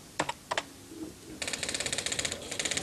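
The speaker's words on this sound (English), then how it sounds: "this is the sort of quality printer you'd need for writing letters" A computer printer of the kind used for letters starts with a few mechanical clunks and then prints in a fast, even rattle of dot-matrix bursts, close and steady.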